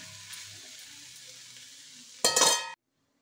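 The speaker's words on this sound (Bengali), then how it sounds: "অ্যাড করে আরেকটু নাড়িয়ে নিয়ে আমি এটাকে 5 মিনিটের মতন ঢাকনা দিয়ে রাখবো।" Momo filling sizzles faintly in mustard oil in a pan, then a loud clattering scrape of a spoon against the pan is followed by abrupt silence.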